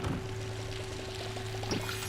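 A watering can pours over crops in the farming video game Palia, a short, soft splashing pour, faint and close, over a steady low background hum.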